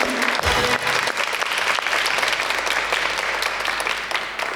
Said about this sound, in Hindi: मैं अपनी ऑडियंस को रिक्वेस्ट करूंगा, जोर से तालियां बजाएं